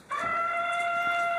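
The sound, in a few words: chicken clucking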